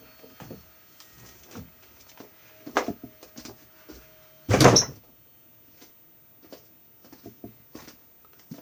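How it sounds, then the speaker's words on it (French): A door slams shut with a single heavy thud midway, surrounded by quieter knocks and clunks nearby. "Une porte à claquer, c'est normal."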